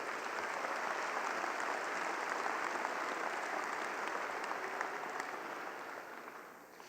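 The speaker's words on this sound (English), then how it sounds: "Let's give them a round of applause for their hard work." Crowd applause at an international Holstein cattle show, steady dense clapping from a large audience that fades slightly toward the end, heard from a distance in a large indoor arena.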